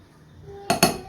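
Two sharp metallic clinks of kitchen utensils against a mixer jar as ingredients for homemade milk ice cream go in, loud and close after a quiet start.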